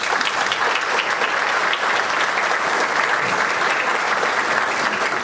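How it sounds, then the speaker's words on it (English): Steady, dense applause from an audience at an awards luncheon, sustained and evenly loud throughout with no voices over it. "Please join me in giving all of our generous sponsors a round of applause."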